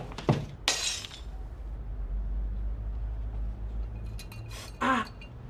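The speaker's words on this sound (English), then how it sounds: "I smashed the glass." Glass smashes with two sharp, bright crashes at the start, followed by a quieter stretch and another harsh burst near the end; the scene is set in a cafe.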